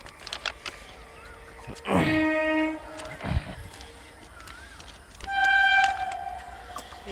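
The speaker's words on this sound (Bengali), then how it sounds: "দেখো আমরা আছি বলে বাঁশি দিচ্ছে" A train blows its horn as it approaches, two loud sustained blasts a few seconds apart over faint outdoor ambience.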